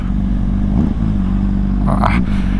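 A 2022 Honda CBR 600RR with a Yoshimura exhaust, catalytic converter still fitted, idles with a loud, close, steady engine drone and a brief rising rev near the end.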